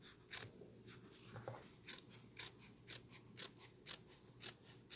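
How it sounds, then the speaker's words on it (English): Scissors snip steadily through fabric, close and crisp, in a regular run of about a dozen quick cuts at an even rhythm, with no talking. "it's easier for you to slip your scissor in right under here and just cut"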